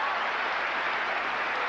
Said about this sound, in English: the crowd, Donald, having been so well behaved in all the matches we've seen so far, is getting a little rowdy